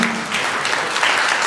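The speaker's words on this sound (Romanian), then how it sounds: "aplauze vă rog pentru doamna Serena Cristina" An audience at a cultural centre event applauds an honoree, a dense, loud, continuous wash of clapping throughout the brief moment.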